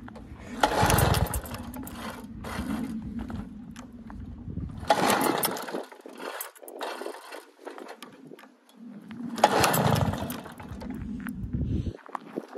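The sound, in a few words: Motoconfort N40T moped engine being started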